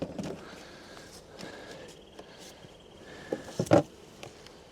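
Honey bees at a hive while honey boxes are dropped on top, a faint, steady outdoor buzz with scattered wooden knocks and handling bumps, the louder clunks near the end.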